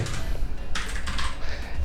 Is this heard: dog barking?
no